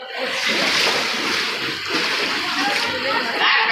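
Feet splash steadily through flood water covering a market street, a dense continuous sloshing and spattering that stays loud and close throughout.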